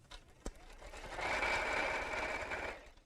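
Sewing machine running a short steady stitch through pocket fabric on a simple evening bag, a soft close whirring hum of about two seconds after a brief click.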